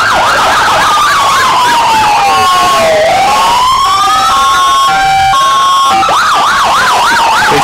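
Fire engine sirens wail through a summer festival parade, a loud mix of overlapping rising-and-falling tones with a rapid yelp pattern, plus a steady horn-like blast in the middle.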